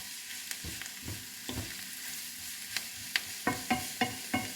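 Lasagne filling with carrots stirred in a frying pan: a soft continuous sizzle broken by a series of sharp spoon scrapes and knocks, which grow more frequent toward the end.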